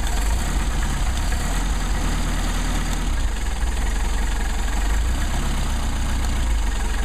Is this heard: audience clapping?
no